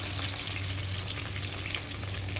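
Onion, green chili and nigella seeds frying in hot oil give a loud, steady, close sizzle that holds evenly throughout, with no talking.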